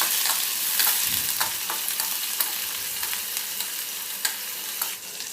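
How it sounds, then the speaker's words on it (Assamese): Onions frying in oil for chicken pulao, a loud continuous sizzle close by, punctuated by repeated light scrapes and taps of a spoon stirring the pan, with no talking. "এতিয়া পিঁয়াজখিনি দি দিছোঁ। ইয়াতে এইখিনি ভালদৰে লৰাই দিছোঁ।"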